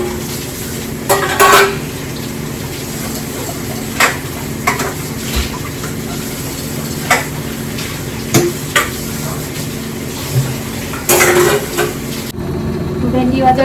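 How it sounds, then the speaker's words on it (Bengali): Okra frying in a kadai, a steady sizzle broken by repeated sharp clinks and scrapes of stirring over a low background hum. "আর এদিকে ভেন্ডি ভাজা হবে"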